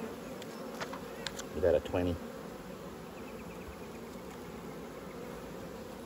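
Honey bees hum around an open beehive during a frame inspection, a soft continuous buzz lying under a brief spoken remark and some handling bumps.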